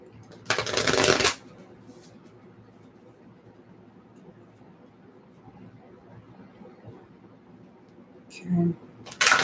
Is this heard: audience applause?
no